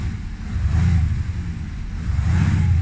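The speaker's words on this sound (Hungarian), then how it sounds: "Most 2000-ig pörgetem. Nagyon jó és nagyon mély hangja van." A deep, low Audi S7 engine revs to about 2000 rpm, rising and falling in two swells over a steady idle, loud and close with no talking.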